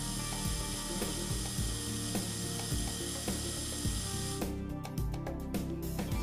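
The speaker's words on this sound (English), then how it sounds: "carefully power up the control unit and press the return button to pull back the plunger" Dental Calamus Dual control unit retracting the plunger in its handpiece: a steady mechanical whir with ratcheting clicks, close and fairly loud, ending with a few quick ticks.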